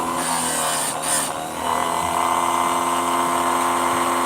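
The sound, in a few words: chain grinder grinding saw chain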